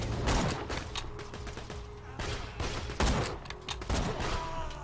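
Gunfire in Borderlands 2 during a co-op firefight, with repeated sharp bursts of shots scattered across a busy stretch of game action.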